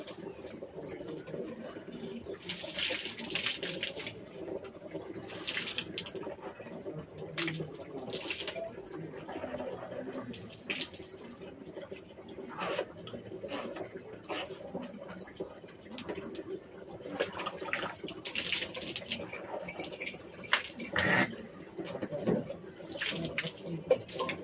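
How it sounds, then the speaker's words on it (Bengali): A running tap splashes into a sink as someone washes their face, with intermittent bursts of spraying water over a low background and scattered quiet sounds. "মুখটা ধুয়ে নিই।"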